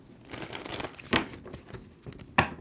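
Close riffling of a tarot card deck being shuffled, a stretch of rapid papery flutter followed by two sharp snaps of cards being squared.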